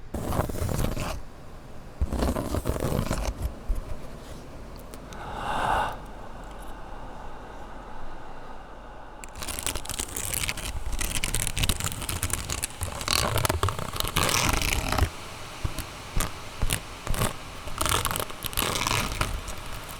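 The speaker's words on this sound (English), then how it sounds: "This is cork bark." Dry, crunchy scraping and crackling as rough cork bark is rubbed and handled up close, in irregular bursts with short pauses.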